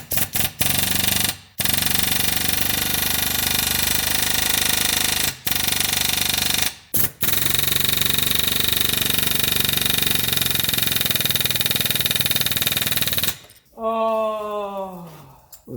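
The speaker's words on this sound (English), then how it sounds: "this basic game of back and forth between this air hammer and the other one" A pneumatic air hammer pounds on a 2011 Subaru Legacy ball joint in a garage, sounding as a loud, continuous rapid hammering with a few brief pauses, ending in a short stretch of other noises.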